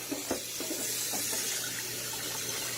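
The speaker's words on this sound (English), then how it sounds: "you got to make sure you rinse it out till it's white" Running tap water pours steadily while a freshly caught 9 lb blue catfish is rinsed, a continuous close wash with a few small splashes and knocks near the start.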